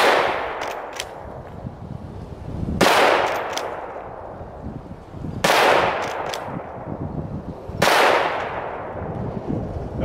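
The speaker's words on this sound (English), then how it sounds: "So I brought the old Henry lever action rifle out today. Gonna shoot some cans" Henry lever action rifle shooting at cans outdoors, four loud cracks spaced a few seconds apart, each followed by a long rolling echo, with faint metallic pings and clanks between shots.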